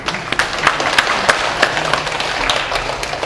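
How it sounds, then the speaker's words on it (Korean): An audience claps at a lecture on body constitution types. The applause is steady, dense and fairly loud, with no voices over it, and lasts about three seconds. "우와, 한번 박수 한번 칠까요, 여러분들?"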